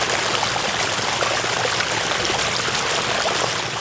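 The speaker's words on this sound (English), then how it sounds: "The next one is water falling onto rocks, and that's a splashing sound." Water from a pondless waterfall splashes onto rocks in a steady, dense, close hiss that stays even throughout with no other sounds.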